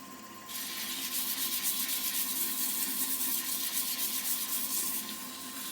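Wooden wand being sanded with 100 grit sandpaper: steady, continuous scratchy rubbing strokes, close and fairly loud, starting after a brief quieter moment and easing off near the end, with no talking.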